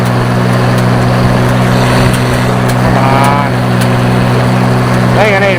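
An Oliver 1800 tractor pulls a 129 haybine, a 9-foot mower, through hay at about two miles an hour. Its engine gives a loud, steady, close drone, and a voice briefly speaks over it.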